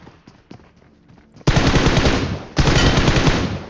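Loud, rapid automatic gunfire in PUBG Mobile, two long sustained bursts close by, preceded by a few scattered single shots at a distance.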